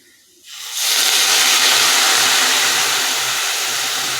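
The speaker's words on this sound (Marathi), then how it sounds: "सगळ्यात शेवटी आपण याच्यामध्ये आता पाणी ओतायचं आहे" Water poured into a hot pan of Maharashtrian sandgyachi bhaji curry bursts into a loud, steady sizzling hiss that swells after a brief quiet start and holds strong without talk.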